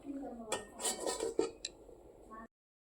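Metal lid placed over a pot of cooking greens, heard as a short run of clinks and scrapes with a soft clatter, then silence.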